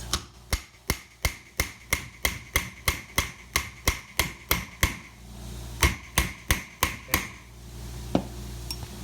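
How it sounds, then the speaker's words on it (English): A very small hammer taps a Triumph TR3 wiper motor in a rapid, even series of sharp metallic knocks, then pauses and delivers a few more scattered strikes, close and fairly loud. "very small hammer so I don't overdo it"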